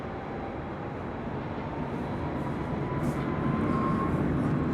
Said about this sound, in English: Rolling on down 24 left. Southwest Airlines flight 2962 heading to San Jose, California. 737 MAX 8.